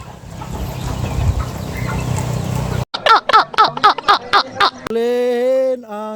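On a farm, a burst of rough noisy commotion gives way to a rapid run of sharp chicken clucks, followed by a sustained, tonal squawking call at the end.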